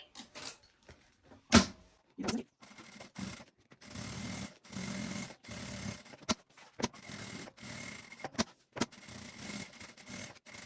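A sewing machine topstitching a fanny pack with a long stitch length runs in short, close bursts of rapid mechanical whirring, separated by pauses with fabric rustling and handling noises.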